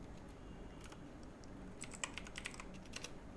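Keyboard typing on a computer during a Canva poster design session: a quiet background hum, then a brief run of light, fast clicks near the end, no talking.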